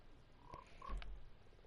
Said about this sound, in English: This is the frog.